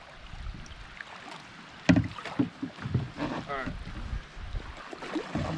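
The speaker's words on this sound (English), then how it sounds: "he just paddled up this river sideways" Canoe paddled up a river in the Boundary Waters, with paddle strokes and water splashes under wind noise and people talking nearby.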